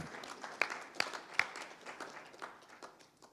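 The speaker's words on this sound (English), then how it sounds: "give a big round of applause for Pablo Davidenia." Scattered applause at a sports press conference as a competitor is introduced, with a few sharp individual claps standing out over thin, sparse clapping that tapers off.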